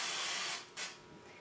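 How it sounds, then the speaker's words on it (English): Cooking oil sprayed from a can onto the cut face of a spaghetti squash: a steady, close aerosol hiss that cuts off, followed by two short spritzes. "Now you're going to spray the face of it"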